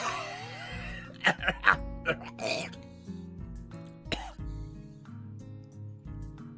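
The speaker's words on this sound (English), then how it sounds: "The only sounds in the classroom are quiet shuffling of papers and Mato's constant coughing" Repeated coughs and throat-clearing come in bursts over a steady synthesized music bed, the coughing loud and close.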